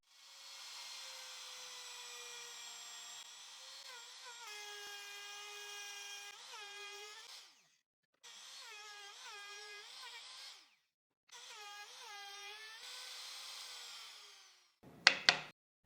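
A router with its bit set 22 mm from the guide cuts a centered U-shaped 12 mm groove about 5 mm deep along a wooden piece; a steady high whine runs in three passes separated by brief silences, ending with a short clatter.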